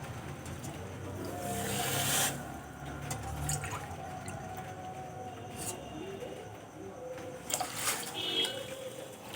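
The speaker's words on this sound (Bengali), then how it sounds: "ওই একই বাটি মেপে দু বাটি দিয়ে দেব জল" Water poured into a pan of sugar to make syrup, with a continuous splashing flow and a few louder gushes and drips over several seconds, close by.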